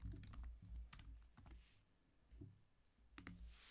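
Keys clatter on a computer keyboard in quick bursts of crisp clicks with soft low thumps, pausing briefly before another run of typing; no voices.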